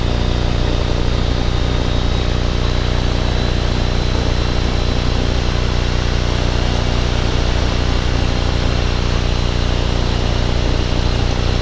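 A light aircraft engine idles steadily through a long taxi, a loud, constant droning hum with a smooth, unbroken rumble, close up and alone with no talking.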